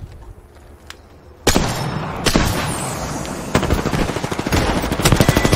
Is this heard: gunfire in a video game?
yes